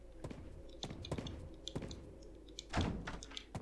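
A locked door in the Resident Evil 4 beta demo gives repeated dull thunks and rattles, a series of quiet knocks ending in a slightly heavier jolt.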